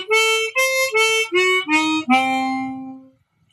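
A chromatic harmonica plays six clear, separate notes of a diminished seventh arpeggio, the final note held and fading out, close and alone.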